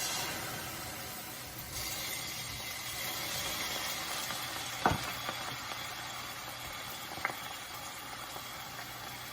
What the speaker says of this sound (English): So now I'm going to toss in the shrimp here.